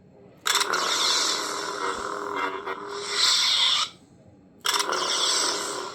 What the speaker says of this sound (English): So when you do hit it against something, it does, you know, that sound, and it shows like a little white part